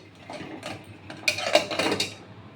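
Pressure cooker lid being closed and locked while cooking chana dal, a series of short metallic clicks and scrapes, quiet at first and then louder clattering near the end, close and with no voices.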